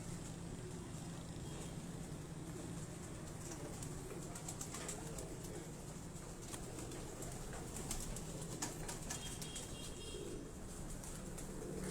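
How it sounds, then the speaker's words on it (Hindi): Pigeons at a rooftop loft in Johar Town, Lahore, with continuous soft cooing and rustling. Faint flapping and calls are mixed into a steady background hum, and no one speaks. "कबूतर"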